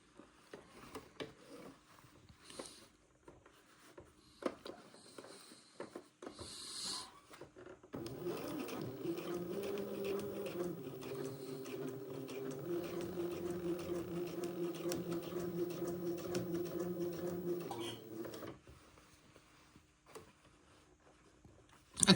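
A sewing machine stitching a quarter-inch line around the armhole of an Eton suit hums steadily at close range for about ten seconds, after a stretch of scattered handling clicks.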